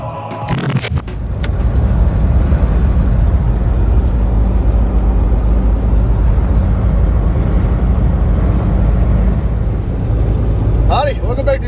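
A 2004 Land Rover Discovery 2 cruises down the road on a road trip, its steady engine and tyre roar filling the cabin continuously, with a brief clatter at the start and a faint voice near the end.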